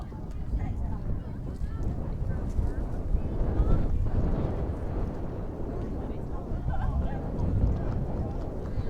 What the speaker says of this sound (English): As that wind picks up,